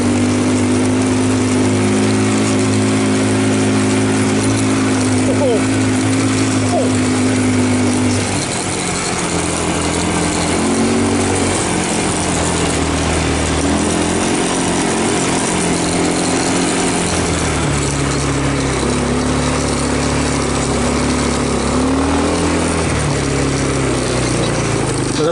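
A quad bike engine drones steadily while riding sandy trails in hot Queensland heat, its pitch shifting as the throttle changes, loud and close throughout with no talking.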